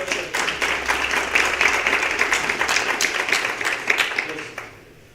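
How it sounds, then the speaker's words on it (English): Clapping audience at a candidate forum held by a county NAACP chapter and faith coalition, sustained applause that stays fairly loud and then trails off quickly at the end. "I give you all a round of applause"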